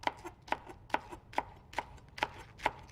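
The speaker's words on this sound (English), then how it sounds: "just chopping up some scallions" A knife chops scallions on a cutting board in a kitchen, sharp rhythmic strikes landing about every half second, close and crisp over a quiet background.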